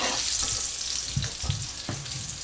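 Salmon croquettes sizzle in a pan over medium to medium-high heat, a constant close hiss of frying oil punctuated by a few soft clunks and scrapes.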